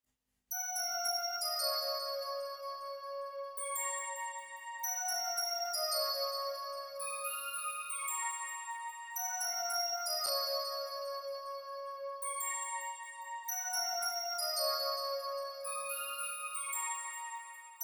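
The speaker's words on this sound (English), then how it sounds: "So really simple bell melody here" A bright D50 Fantasia synth bell tone plays a simple descending melody, repeating the phrase four times with a soft, shimmering pad ringing underneath.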